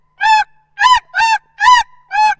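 A man blows a snow goose call by mouth, imitating the bird with five loud, evenly spaced honking yelps, close and alone.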